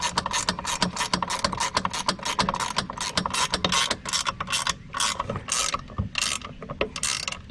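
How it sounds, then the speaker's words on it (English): Ratchet wrench tightening bolts on a plastic Cyclone Rake housing, making rapid continuous clicking strokes up close with short pauses between them, no voices. "Here, you want to ratchet this one?"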